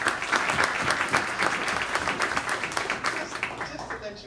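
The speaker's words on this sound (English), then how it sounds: "So give her a round of applause as well." Audience applause at an unsung heroes awards event in 2020, a full room clapping loudly and continuously with a slight crowd murmur beneath, tapering off toward the end.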